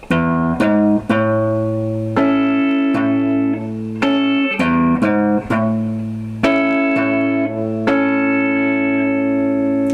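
Guitar plays an A barre chord picking pattern, thumb on the sixth string then strings three to one, repeated several times as crisp, sustained plucked notes, close and alone.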